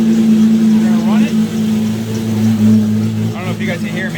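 A Nissan Skyline R34 GT-R engine runs at a steady idle after an oil change, a low constant hum with a strong tonal drone, while a person talks over it.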